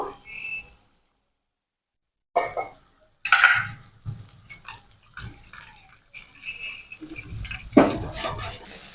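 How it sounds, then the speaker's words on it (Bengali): Spices and salt are stirred together with a little water in a bowl while preparing a snakehead fish curry. Intermittent wet scraping and splashing comes close up in short bursts separated by pauses, with no talking. "দেব স্বাদ মতো লবণ সবকিছুতে একসঙ্গে একটু জল দিয়ে মিশিয়ে নেবো"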